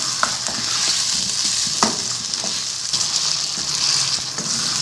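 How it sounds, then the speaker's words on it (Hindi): Potatoes frying in ghee with onion and ginger-garlic paste for aloo biryani, a loud, continuous close sizzle with occasional soft stirring scrapes and no talk. "आलूओं को घी और प्याज के साथ, जिंजर गार्लिक के साथ अच्छी तरह से हमने फ्राई करना है"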